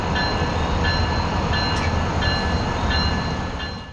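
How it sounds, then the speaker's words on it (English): An Amtrak train rumbles heavily and steadily nearby as it slowly approaches a broken railroad crossing while the crossing bell dings in a regular, repeating rhythm above the low roar. "the slow-moving train as they approach the crossing"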